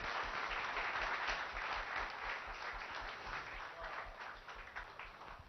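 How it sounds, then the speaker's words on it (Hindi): A crowd applauds at a yoga talk, a dense, even wash of clapping that lasts throughout and slowly fades a little toward the end, with no voices. "तालियां"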